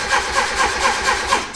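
Turbocharged Mazda Miata engine cranking over, the starter chugging in a steady rhythmic pulse of about six beats, loud and close, without catching.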